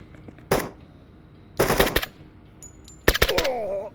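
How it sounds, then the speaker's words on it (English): Gunfire in the Door Kickers 2 tactical shooter game: three separate loud bursts of rapid shots, each about half a second long and spaced roughly a second apart, with quiet in between. "we were able to get those shots off without getting injured"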